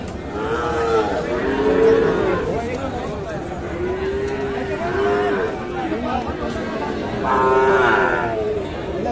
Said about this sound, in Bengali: আমরা দেখবো আরো কিছু গরু।